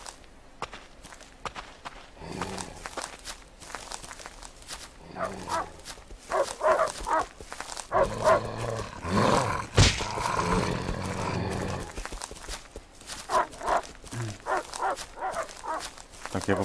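Wolves in the survival game Rust snarl, growl and bark aggressively in fitful bursts, mixed with in-game footsteps and rustling, loudest in the middle of the sequence.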